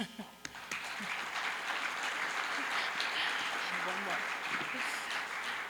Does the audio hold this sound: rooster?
no